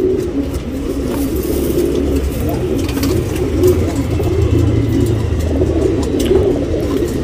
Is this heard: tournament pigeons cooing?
yes